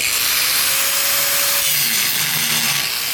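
Angle grinder with a rigid disc grinds down a metal weld test plate, a loud continuous abrasive rasp close up with slight shifts in pitch as pressure changes, no talking.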